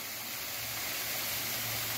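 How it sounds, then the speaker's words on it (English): A waterfall fed by a karst spring pours into a sinkhole, producing a continuous, even broadband rush of falling water with no breaks, steady and fairly loud throughout. "and becomes that waterfall"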